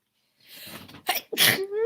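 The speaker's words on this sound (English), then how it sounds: "I'm going to sneeze." A single close, loud sneeze, building with a sharp inhale before bursting out, followed by a brief vocal trail.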